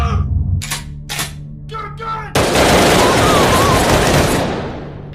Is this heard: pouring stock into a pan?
no